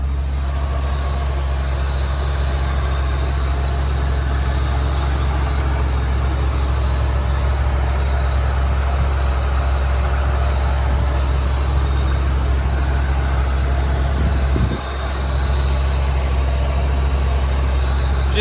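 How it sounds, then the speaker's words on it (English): A 2001 Ford Excursion Limited 4WD engine with 98,000 miles idles steadily with a deep, even rumble, close by and unchanging, with only a brief dip near the end. "Let me let you guys hear the engine run."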